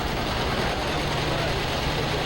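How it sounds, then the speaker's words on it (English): An early John Deere R diesel tractor runs with a low, steady rumble heard from a short distance, with a voice talking over it. "one of the first John Deere diesels. Oh, listen to it purr."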